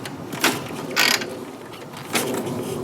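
Priming kicks on the kickstarter of a 1947 Harley-Davidson EL OHV Knucklehead give three close, loud ratcheting, scraping mechanical strokes with short pauses between them, and the engine does not fire.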